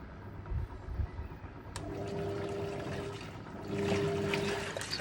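A Hoover 1400 washing machine on its permanent press cycle sloshes and churns water with pulsing agitation and tumbling, a steady watery wash that swells louder in the last seconds, with a faint motor hum underneath.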